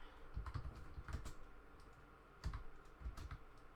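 Keyboard typing during a Rust gaming session: several quick bursts of clacking keystrokes, close and fairly soft, separated by short pauses with no talking.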